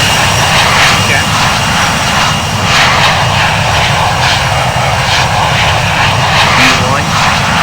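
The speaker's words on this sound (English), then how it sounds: "we are taking off. Takeoff thrust is set." Twin jet engines of a Boeing 717-200 at takeoff thrust in the Infinite Flight simulator roar loudly and continuously, a dense, steady rumble with a voice talking over it.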